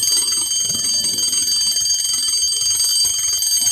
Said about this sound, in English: Suddenly, she heard the bell.